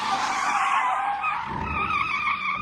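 A Chevy with fins swerving in a chase scene, tires squealing in a sustained high screech over engine rumble, loud and continuous.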